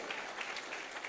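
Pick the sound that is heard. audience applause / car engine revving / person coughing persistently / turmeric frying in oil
audience applause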